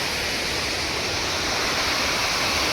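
Water rushes at Upper Manair Dam in Rajanna Sircilla, a loud, dense, continuous roar of heavy flow filling the whole clip with no pauses or voices.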